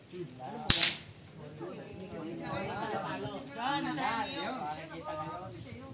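One sharp, loud gunshot cracks out at a shooting competition, then a nearby voice talks for several seconds while faint crowd chatter continues in the background.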